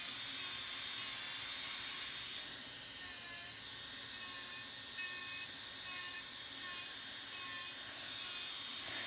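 Rotary diamond burr filing nails and calluses gives a steady, quiet whirring hum with a high tonal whine, continuous and close, broken only by faint shifts in pitch as it grinds.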